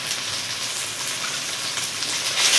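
Spiced paneer mixture with chili powder and turmeric being stirred in a hot pan, a continuous loud sizzling and frying hiss close by, steady throughout and swelling slightly at the end.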